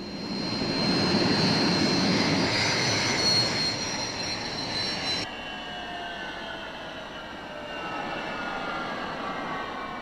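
A Saab J35 Draken jet fighter brakes with a drag parachute on landing, a loud broad jet roar with high whine that drops abruptly midway to a quieter, steady rushing tone, with no voices.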